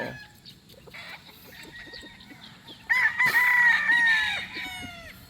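A gamecock rooster lets out a single loud, drawn-out crow partway through, with quieter clucks and farmyard background before it.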